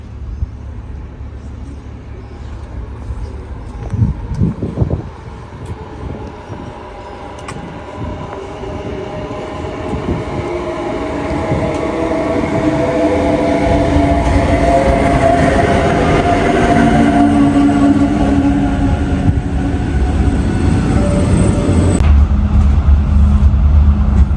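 A train heard from on board, with wheel clatter and rumble building from a quieter start into a loud, continuous roar.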